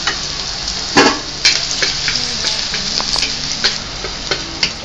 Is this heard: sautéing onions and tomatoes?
yes